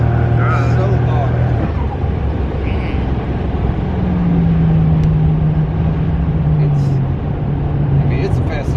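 A 1987 Buick Grand National's engine roars steadily with a rising hum as it accelerates hard, heard from inside the car, with voices speaking over it.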